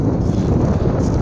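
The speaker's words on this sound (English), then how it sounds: "the wind is crazy" Steady, heavy wind roar buffeting the microphone on a farm at minus 23 degrees, a continuous low rumble with gusty texture and no pauses.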